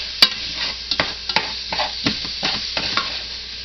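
Egg mixture poured into a hot pan and cooking into a scramble, a brisk sizzle with sharp scrapes and taps of a utensil stirring, close and clear over about four seconds, no talking.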